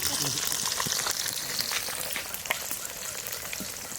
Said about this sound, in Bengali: সবে মাছ ভাজছি দেখেন